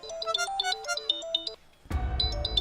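A mobile phone ringtone plays a bright, repeating electronic melody. It cuts off briefly, then starts again over a burst of louder background noise.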